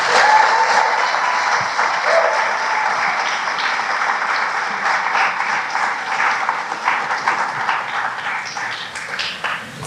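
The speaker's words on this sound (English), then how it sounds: "Let's give this organization for this movement a round of applause." Sustained audience applause at an arts festival keynote, a loud, continuous roar of many clapping hands that slowly thins and fades toward the end.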